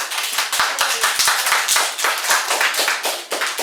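Loud, close clapping welcoming archaeologist Omar Aguilar Sánchez to a gathering, a dense burst of many hands with sharp individual claps standing out and no talk over it.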